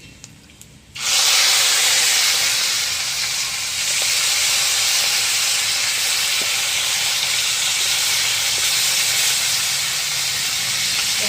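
Hilsa fish heads rubbed with salt and turmeric land in hot oil tempered with dried red chillies and black cumin, setting off a loud, steady sizzle that begins abruptly and keeps hissing close up.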